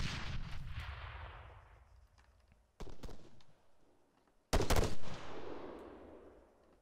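Gunfire in the military shooter ArmA 3, a few loud distant shots and short bursts echoing across open terrain, separated by quiet stretches with a rumbling tail after each report.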